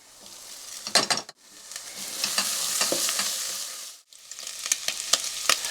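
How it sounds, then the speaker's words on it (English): Bacon sizzles and crackles steadily in a hot pan while making Bolognese sauce, with brief scraping stirs interrupting the hiss; no voices. "You might be able to hear the sizzle of the bacon."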